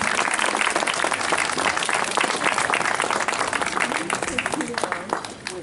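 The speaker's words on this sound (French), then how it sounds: "On les applaudit." Applause from the audience as two new members are inducted at a Pélou brotherhood ceremony: loud, close, continuous clapping from a crowd, thinning out toward the end, with voices mixed in.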